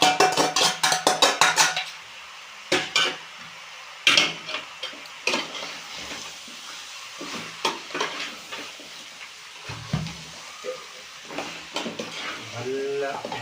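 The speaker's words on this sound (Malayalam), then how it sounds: "നല്ലോണം മിക്സ് ചെയ്ത് കൊടുക്കണം. ഇതിൻ്റെ കൂടെ നമ്മൾ ഈ ചതച്ച് വെച്ച കൊച്ചുള്ളിയും ഇട്ട് കൊടുക്കുകയാണ്" Chicken being stirred in a pan with crushed shallots, a low sizzle under repeated scraping and clinking of a spoon against the metal, close up, with irregular strokes throughout.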